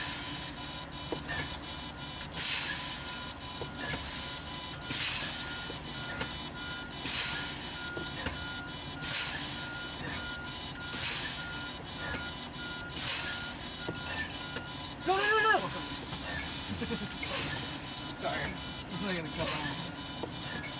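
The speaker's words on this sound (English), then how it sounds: "So I will start fanning my brakes until these both pop out." Class A truck air brakes being fanned during a pre-trip inspection: sharp air hisses repeat roughly every two seconds over a low idling rumble, with a brief squeal partway through and faint background talk.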